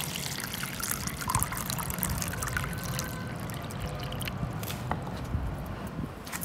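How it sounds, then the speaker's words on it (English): One liter of water poured onto soil in a container for an earth science demonstration, heard as a soft continuous trickle and splash that runs quietly for several seconds with no speech. "we're going to see what happens with the soil material after 1 liter of water is poured"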